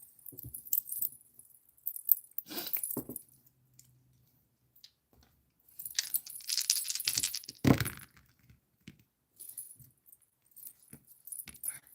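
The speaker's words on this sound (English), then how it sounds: "I'm going to roll the dice" Dice rolled during a live spiritual reading, heard as scattered clattering bursts across the twelve seconds, with a loud rattle around the middle and a sharp knock near the end, close and with no speech.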